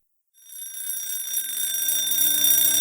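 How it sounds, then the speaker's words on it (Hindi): After a brief silence, an alarm clock starts ringing with a bright, sustained electronic tone that grows fuller and louder and keeps going. "अलार्म बजती है और पीटर नींद से उठता है।"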